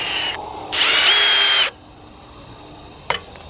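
Milwaukee 2997-22 drill/driver whirring loudly in two short bursts, nearby, then quiet except for a sharp click near the end.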